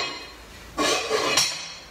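A lid set onto a pork roasting pot and clamped shut, giving two close metallic clanks about half a second apart over a quiet kitchen hush.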